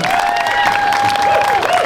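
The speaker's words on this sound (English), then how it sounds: "Round of applause for Celine." Crowd applause and cheering at the Santa Clara County Fair ribbon cutting, a steady wash of clapping that fills the moment with a sustained tone running through it.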